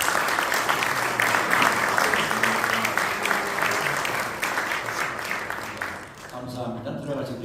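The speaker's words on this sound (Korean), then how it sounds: "우리 뜨겁게 한번 격려 박수 한번 하고" Warm applause from the audience at a GMS board general assembly, sustained dense clapping throughout, with talk and chatter faintly underneath and the clapping thinning toward the end.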